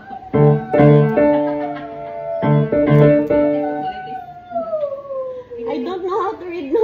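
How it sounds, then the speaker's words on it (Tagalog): A dog howls in long, wavering cries broken by short pauses, near and fairly loud, ending in a falling, whimpering wail. "Parang may mga dito sila, may aso."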